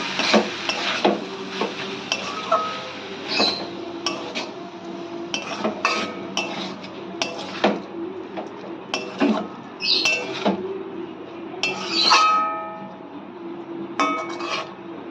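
A spoon scrapes and clinks against a pan as ghee is stirred into a Bengali banana flower dish, in irregular close bursts of metallic scraping and knocking.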